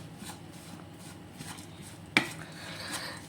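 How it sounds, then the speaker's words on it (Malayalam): Tomatoes chopped with a knife for a South Indian curry, soft repeated taps against a board under kitchen background, one sharp louder knock near the end. "തക്കാളി ഞാൻ അരിഞ്ഞുകൊണ്ടിരിക്കുകയാണ്"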